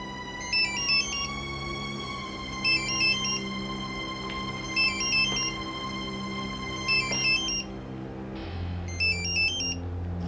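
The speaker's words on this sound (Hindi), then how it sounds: "ये किसका फोन हो सकता है?" A phone ringtone chimes in repeating bursts of a bright, looping melody, moderately loud against a steady low background hum in a home setting, with brief thumps near the end.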